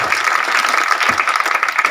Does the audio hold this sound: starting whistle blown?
no